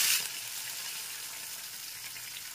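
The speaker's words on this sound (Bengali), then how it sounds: "আর একটু জল মিশিয়ে নিচ্ছি।" Water added to ginger paste sizzling in a pan while cooking a vegetarian bottle gourd dish, an initial splash burst settling into a steady hiss of frying close by.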